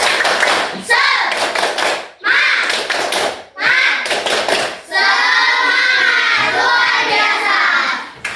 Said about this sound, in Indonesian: Coba kita tepuk semangat dulu